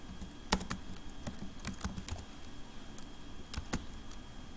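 Fingers tap out an irregular run of sharp, close keystrokes on a computer keyboard in a quiet room, with a few louder key strikes among the lighter clicks.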